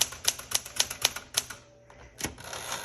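Keys clack on a 1973 Smith Corona Galaxie Twelve typewriter in a quick rhythmic run of strikes, then a short pause and a final heavier clack, close and fairly quiet.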